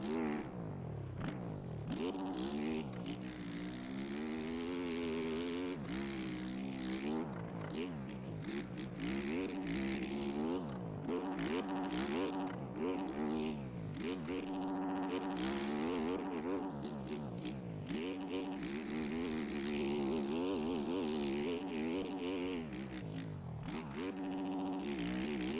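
Motocross bike engine in a racing game, a Yamaha 450 fitted with a Ducati model, droning steadily throughout with rising and falling revs as the rider shifts and throttles around the track.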